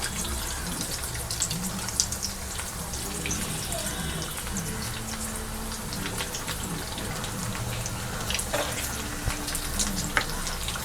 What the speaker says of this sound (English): So I'm going to drop it in the oil.